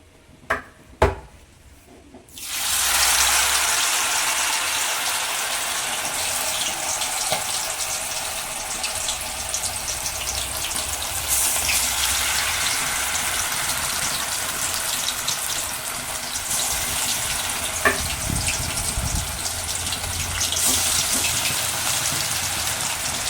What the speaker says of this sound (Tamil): எண்ணெய் நல்லா காஞ்சிடுச்சு. ஸோ இப்போ சிக்கனை போட்டுடலாம்.